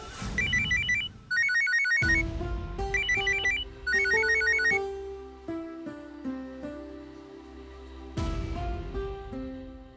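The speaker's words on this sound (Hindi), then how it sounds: "देखो सुमित्र, फोन न उठाकर मैं तुम्हारा दिल नहीं दुखाना चाहती हूँ।" A melodic phone ringtone in a Hindi TV drama plays, with bright chiming bursts repeating rhythmically over sustained tones, then the jingle restarts loudly near the end.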